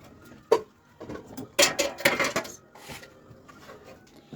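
A knife chops cantaloupe into small pieces for jam, making scattered sharp taps and clicks on a board with a few louder strikes and quieter pauses between.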